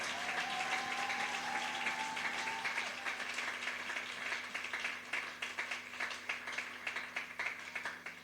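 A church congregation applauding and acclaiming the Lord, a sustained wash of many hands clapping that fills the room, steady at first and gradually thinning out, with faint voices beneath.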